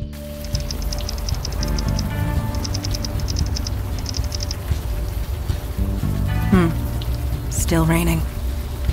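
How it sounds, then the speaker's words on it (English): Rain in the video game Unavowed, a steady hiss of rainfall under game music with repeating tonal chimes and a couple of brief rising synthetic sweeps. "Still raining."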